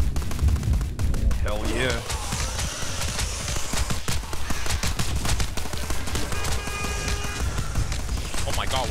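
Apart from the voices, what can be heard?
grenade launcher firing in video game Tower Unite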